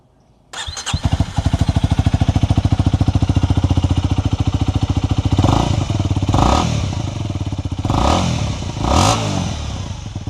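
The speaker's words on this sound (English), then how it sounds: "let's take a listen to this little thumper here." A small single-cylinder motorcycle thumper, priced around 704,000 yen in Japan and rated 24 horsepower and 17 pounds of torque, starts up and settles into a loud, close, steady pulsing idle, then takes several sharp throttle blips.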